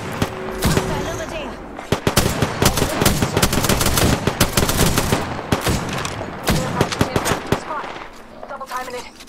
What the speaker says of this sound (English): Wait, somebody shoot behind me?